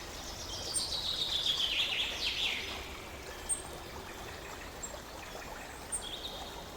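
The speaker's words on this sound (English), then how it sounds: "Night birds call softly," Night birds call softly near a river: a few thin, high chirps drift over a steady trickling water bed, faint and somewhat distant, with no voices.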